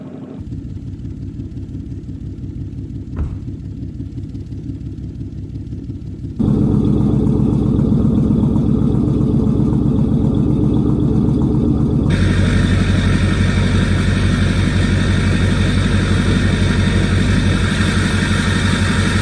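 A straight-piped truck engine idles loud and steady throughout, a deep continuous rumble that grows louder and fuller partway through, with no voices.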